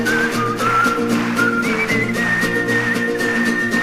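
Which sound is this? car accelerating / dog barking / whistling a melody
whistling a melody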